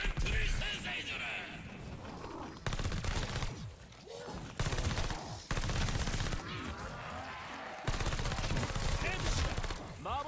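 Rapid, continuous gunfire in Call of Duty: Vanguard's zombies mode, dense volleys in loud bursts broken by brief pauses across the whole stretch, with shots stacking into a steady roar.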